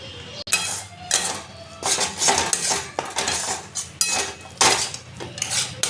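Powdered milk, sugar and chhena being mixed with a metal utensil for a mango kalakand sweet, rapid clinking and scraping against the vessel in uneven bursts, close and clear.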